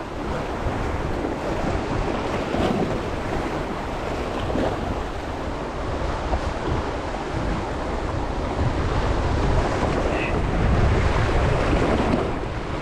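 Strong wind roars steadily by the sea at Comas Island in Sual, Pangasinan, with broadband gusting, microphone buffeting and surf washing beneath it, continuous and loud for the whole stretch without any talk.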